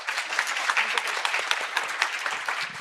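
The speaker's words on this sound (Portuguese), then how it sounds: "E uma salva de palmas," Audience applause at a retail industry talk, a steady dense patter of many hands clapping at moderate volume with no voices over it.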